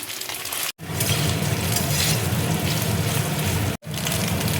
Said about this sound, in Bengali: এবার দেখো সোয়াবিনটা আমি তেলের মধ্যে দিয়ে দিচ্ছি